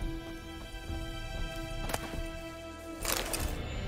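Horse hooves clip-clopping in the video game The Witcher 3, a steady rhythmic trot under a constant musical drone, with a louder burst of movement near the end.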